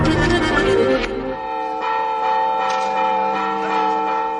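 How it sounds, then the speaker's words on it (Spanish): A village church bell in Figueruela de Abajo, a small Zamora village, rings out to call about 200 residents to council, loud, ringing strokes with long sustained tones overlapping and decaying, heard alone. "El toque de campana convocaba a los 200 vecinos de Figueruela de Abajo, un pequeño pueblo de Zamora."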